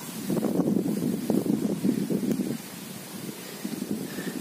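Wind gusting over an open farm overlook with cornfields, a steady buffeting rush on the microphone with light rustling, stronger at first and easing slightly later.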